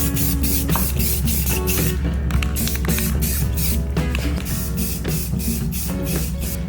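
Spray paint hissing in rhythmic bursts as a second coat goes onto the wheels of a 1965 Ford Mustang, close and continuous over a busy background of music.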